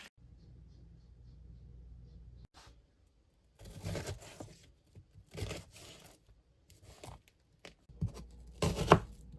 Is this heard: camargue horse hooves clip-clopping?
no